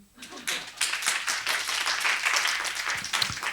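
A lecture audience gives a brief round of applause, a moderate patter of many hands clapping that holds steady for a few seconds at a fair distance, with a faint voice underneath.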